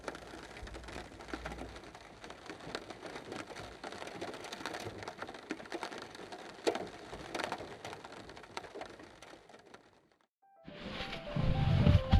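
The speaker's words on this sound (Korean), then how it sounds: "밤이 깊어지니 빗소리가 커집니다." Steady night rain falls during car camping for about ten seconds, then cuts out and is followed by a low rumbling noise.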